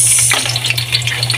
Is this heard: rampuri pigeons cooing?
no